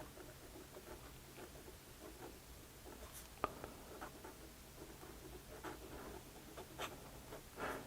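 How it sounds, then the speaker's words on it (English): A Platinum Prefounte fountain pen held nib-reversed scratches faintly across paper in short, irregular strokes, a quiet dry rasp with one small tap partway through and no voice. "Reverse writing."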